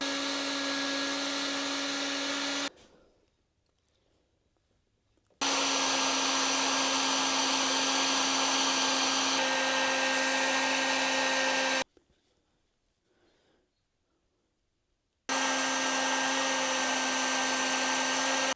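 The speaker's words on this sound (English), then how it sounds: "I think my heat gun's going out." Heat gun shrinking heat shrink tubing on a wire butt connector blows with a loud, steady whine in three long bursts, cutting off twice into near silence between runs.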